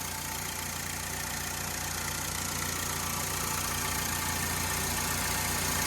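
A personal car with a 2-liter four-cylinder engine idling steadily and loudly, a constant broadband drone with a low rumble that does not change throughout.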